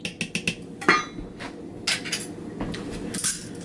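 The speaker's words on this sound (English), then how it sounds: "But I do think the whisk is starting to give me a little bit better results." A metal whisk beats a dessert mixture in a bowl with quick, uneven clinks and taps, bright and close, coming in short bursts with brief pauses.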